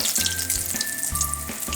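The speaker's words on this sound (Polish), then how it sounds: "Widać, że olej jest doskonały i ona już działa, już się nam smaży." Breaded cod frying in hot oil, a continuous bright sizzle and crackle with some low bubbling underneath, close and fairly loud, no voices.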